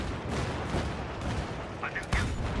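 A grenade blast in Battlefield 3 comes amid dense, loud battle noise, with booming gunfire rumbling throughout and a sharper burst near the end.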